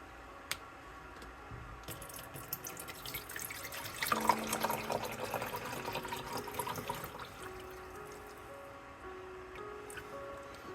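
Distilled water pours and trickles into a small Sea Monkeys aquarium tank, swelling to a fuller gush midway and then settling into a quieter stream, with a few small clunks.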